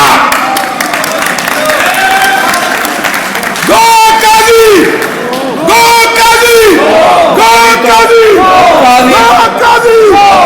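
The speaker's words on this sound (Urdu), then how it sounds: "قاضی کے نعرے نہ لگاؤ" A large crowd chants slogans in loud, rhythmic bursts at an All Pakistan Lawyers Convention hall. Massed voices rise and fall repeatedly, with a speaker's amplified voice and some applause mixed in.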